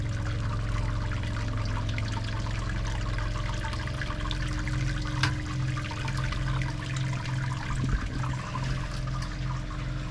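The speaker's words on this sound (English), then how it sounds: "There we are, guys, all 5 steps done, and we are sparging away." Wort running continuously while sparging the mash for a Hefeweizen brew, a steady trickle and pour of liquid over a constant low mechanical hum, without speech.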